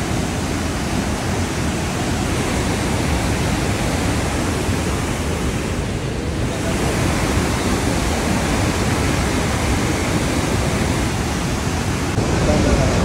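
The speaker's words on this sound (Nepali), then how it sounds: "यहाँ पानीको राफ फोर्स कति छ, पानीको राफ चाहिँ हेर्न सक्नुहुन्छ गाइस" Powerful rushing water roars at the Kaligandaki hydropower dam in Mirmi, a dense, steady torrent close by that holds a loud, unbroken level throughout, with no pauses in the flow.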